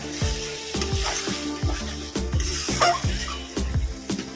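Gondhoraj lote fish jhuro frying in a pan, a steady close sizzle with soft stirring scrapes recurring about every half second.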